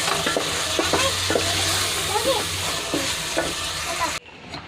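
Onion, tomato, green chili, ginger, garlic and cumin stir-fried in a pan, with steady close sizzling and repeated scraping strokes of a spoon, cutting off abruptly near the end to a quieter hiss.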